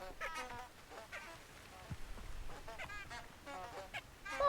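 Birds honking in the video game Hogwarts Legacy, a flock of goose-like honks and calls coming in repeated uneven bursts, faint and at a distance over a soft outdoor background.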